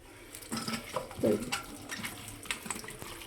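Running tap water pours over freshly cut baby corn being rinsed by hand, a close, continuous splashing stream broken by uneven bursts and clatters as the pieces are moved under the flow.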